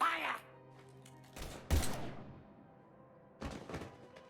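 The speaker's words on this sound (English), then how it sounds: "Now open fire!" Gunfire in the Mass Effect video game: a few sharp, loud bursts of shots in separate clusters over a quiet ambient background, with a brief game sound at the start.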